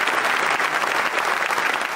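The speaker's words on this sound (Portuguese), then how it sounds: "o parlamento britânico aplaudiu de pé o homem que está liderando a resistência ucraniana" British parliament members give a standing ovation, a dense, sustained burst of applause filling the chamber without pause.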